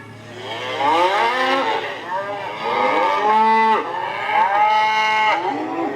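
A recorded cow moo plays from a touch-activated digital Bhagavad Gita device, several long, loud, drawn-out lowing calls rising and falling over about six seconds, close and clear.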